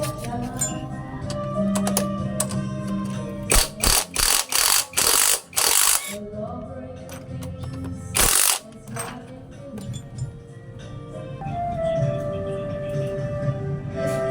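A ratchet wrench loosens the bolts holding the cylinder head on a Raider J115 motorcycle, with close, rapid mechanical clicking in quick bursts, several sharp louder rattling bursts in the middle, and quieter metallic fiddling around them.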